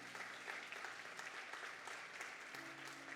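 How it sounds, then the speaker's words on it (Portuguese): A church congregation applauds steadily for about three seconds, a soft dense wash of many hands clapping at some distance in a reverberant hall, with faint musical tones sustaining underneath. "Você pode aplaudir a Ele? Faça isso com alegria."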